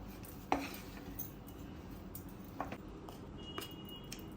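A spatula scrapes and taps a pan while a mango barfi mixture is mixed, giving a few soft metallic clinks over a low, quiet background.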